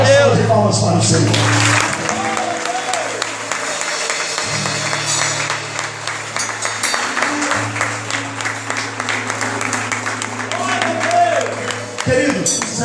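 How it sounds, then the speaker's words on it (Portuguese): A church congregation claps during an evening worship service honoring Father's Day, a steady broadband patter of many hands filling the room for about twelve seconds, with sustained organ or keyboard tones and some voices underneath. "De palmas para o Senhor."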